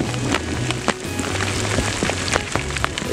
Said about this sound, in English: There's even hail.